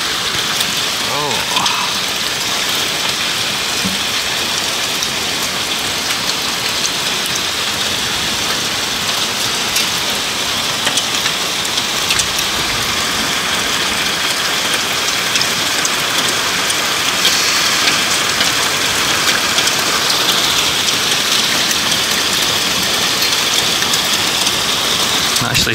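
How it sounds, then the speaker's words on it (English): Heavy rain in a thunderstorm over Greater Manchester falls and splashes onto surfaces just below an open window, a dense steady hiss that goes on without a break. "Actually starting to get some spray from rain falling onto surfaces half a metre below me."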